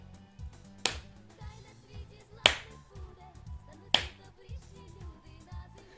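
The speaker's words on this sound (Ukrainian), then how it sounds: "І можна те саме робити з оплеском." Hands clap sharply three times, spaced well apart, during a children's counting exercise, over soft background music.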